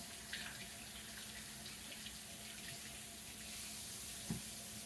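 Water from a tap runs steadily at low level while a Dyson V11 vacuum filter is rinsed under it in a sink, with faint splashes and one soft knock near the end.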